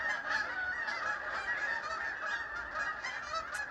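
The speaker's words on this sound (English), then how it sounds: "Just like a bunch of dogs barking." A flock of geese honks continuously overhead in the early morning in Ottawa, a dense, overlapping chorus of calls steady and fairly loud throughout, with no talking.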